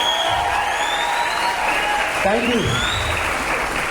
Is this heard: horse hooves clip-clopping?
no